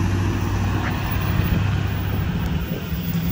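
Heavy road traffic near an accident scene gives off a steady low rumble of engines, with vehicles idling and moving close by.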